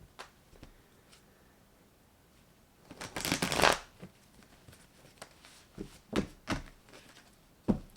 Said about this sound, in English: Let me just shuffle here.